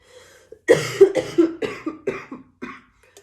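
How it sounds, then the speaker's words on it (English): A run of about eight harsh coughs in quick succession, close and fairly loud, fading slightly toward the end. "Sorry about the coughing"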